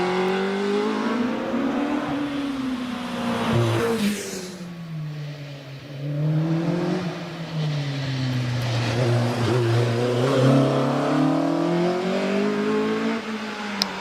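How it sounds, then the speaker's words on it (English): An early, immaculate Austin Cooper S race car at the Prescott hillclimb, its engine revving loudly and close by, rising and falling steadily through the gears for the whole stretch. "Up to the line comes the very immaculate Austin Cooper S"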